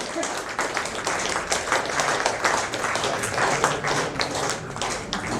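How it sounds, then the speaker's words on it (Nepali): A crowd applauds in honour of a guest at a literary society's celebration of poet Bhanubhakta Acharya's birth anniversary, steady dense clapping lasting throughout with no pauses. "तपाईँहरूले ताली बजाइरहँदा कति पनि खेर जाँदैन"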